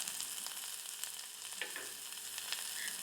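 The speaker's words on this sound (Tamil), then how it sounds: "நல்லா சூடானதுக்கப்புறம் 1 டேபிள் ஸ்பூன் கடுகு சேர்த்துக்கரலாம். அது வெடிக்கட்டும்" Crackling pops and sharp little snaps of mustard seeds over a soft hiss of hot oil, close by and fairly quiet, with no talking.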